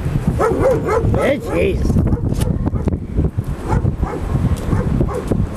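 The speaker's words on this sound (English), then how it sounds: "And this dog start barking at me." A dog barks repeatedly at a person on foot, short sharp barks mixed with whimpering, close and loud over wind noise on the microphone while someone speaks over it.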